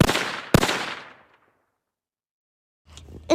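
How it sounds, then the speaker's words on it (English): A sharp, loud gunshot with a long echoing decay, followed after a pause by a fainter crack rising at the very end. "they hear more gunshots"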